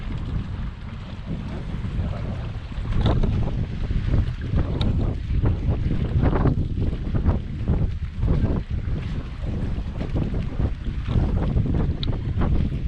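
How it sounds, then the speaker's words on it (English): Steady, loud wind buffets the microphone at the seaside in Santa Ponsa, Mallorca, a continuous low roar with gusty swells and faint surf beneath, and no voices. "It's a little bit breezy today."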